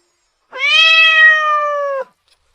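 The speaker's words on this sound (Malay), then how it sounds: "Aku beneran kucing." A cat lets out a single drawn-out meow, loud and close, rising quickly and holding steady for about a second and a half before cutting off, with silence on either side.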